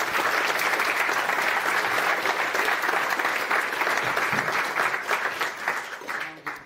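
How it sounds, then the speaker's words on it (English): A conference audience breaks into sustained, dense applause that holds steady for several seconds before thinning out toward the end. "Give yourself a nice round of applause."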